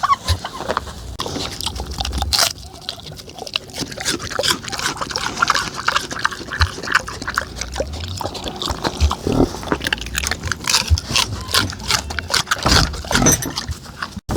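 A pig grunts repeatedly at close range while being fed apples, with irregular bursts of snorting and chewing noise that carry on throughout.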